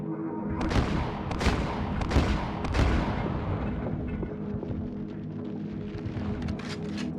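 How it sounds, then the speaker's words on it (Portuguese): Rifle shots in the video game Silent Hill: Origins, several loud, sharp blasts in the first few seconds, each followed by a rumbling tail, then a quieter stretch of lingering noise. "São 4 tiros de rifle pra matar esse bicho."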